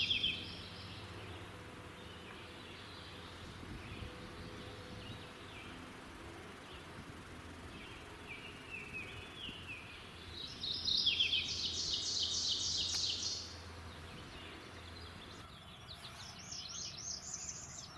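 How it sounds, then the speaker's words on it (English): A warbler sings a faint, distant two-part song whose second phrase drops lower in pitch, while an ovenbird calls in the background over quiet outdoor ambience. "Notice the two-part song, the second part lower in pitch than the first"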